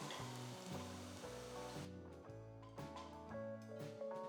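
Onions sauté in a pan for a Kerala potato curry, giving a soft hiss and sizzle that is clearest at the start. Background music with steady melodic notes plays throughout.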